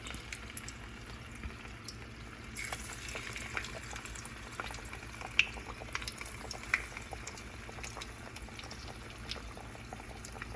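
Battered herbed potato wedges frying in hot oil, a soft steady bubbling and sizzling with scattered tiny pops, fairly quiet and close, no voices.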